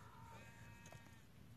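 Sheep bleating in the Minecraft Pocket Edition video game, a single wavering game-sound bleat heard clearly over a steady low background hum.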